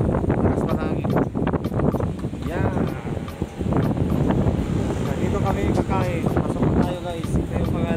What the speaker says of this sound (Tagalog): Lamig dito. Mas mahangin.